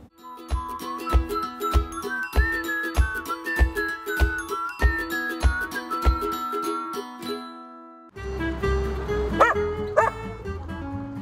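A young female dog on a Polish television pet programme barks in a steady series of sharp yips over tonal background sound, then the pattern breaks into a busier, noisier stretch near the end.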